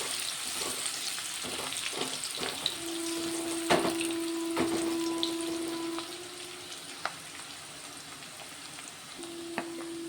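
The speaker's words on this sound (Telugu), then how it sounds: "ఉల్లిగడ్డలు ఒక్కసారి కలిపేసుకుందాం. ఇది కొంచెం ఫ్రై అయితే చాలు." Onions frying in a pan for an egg and ridge gourd curry, a steady close sizzle with soft stirring scrapes and a few clinks, no talk.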